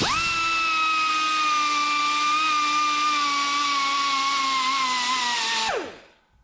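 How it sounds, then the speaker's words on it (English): Die grinder with a small reamer bit deburring a cut fitting on a Plymouth Fury, a loud steady high whine held for nearly six seconds, then winding down abruptly to silence. "We'll clean it up with the little reamer bit on the end of a die grinder."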